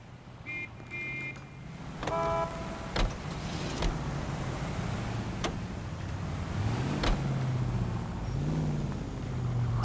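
A car in the video game L.A. Noire, with a door clunk and a few short mechanical clicks and whirs, then an engine idling and revving low under a faint street-traffic background.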